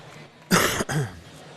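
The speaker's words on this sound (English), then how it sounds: "I tried to cough and I hit the wrong button." A single close, sharp cough in two quick bursts, like a throat being cleared, against a quiet background.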